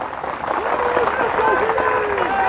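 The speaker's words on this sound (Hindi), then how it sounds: "ताली बजा रहे हो, अच्छी बात है" A rally crowd claps and cheers together in sustained applause, with a loud, dense wash of hands and voices filling the space while a voice carries over it.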